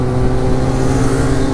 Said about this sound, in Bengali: তো এই যে গেল ডুকাটি।